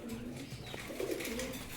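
Pigeons on a pigeon farm give soft, low cooing calls, brief and somewhat faint against a busy background.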